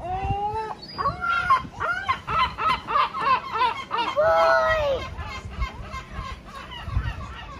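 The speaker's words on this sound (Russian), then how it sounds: "Это не гусь, это чайка!" A seagull calls on the seafront of Nessebar's old town in Bulgaria, letting out a long run of loud, nasal, honking cries in a rhythmic series. A few quieter voices are heard near the end.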